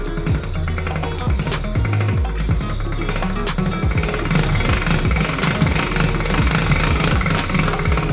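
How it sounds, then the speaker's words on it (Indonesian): A hand-cranked pasta machine rolls lasagna dough between its rollers, giving a dense, steady mechanical rumble and rattle with rhythmic clicking from the turning handle and no talking. "Kita arahkan lapisan adonan kita ke antara gulung-gulung, dan putar pegangannya"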